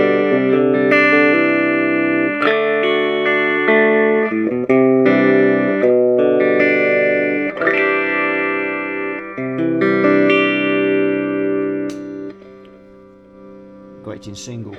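Electric guitar played through a restored, recapped Selmer Little Giant valve amp with a single-coil pickup, ringing chords and picked notes sounding close and loud with a bright, slightly driven tone and sustained decay, no talking over it.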